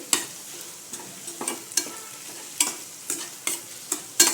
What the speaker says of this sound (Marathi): अर्धा चमचा हळद कांद्यामध्ये चांगलं परतून घ्यायचं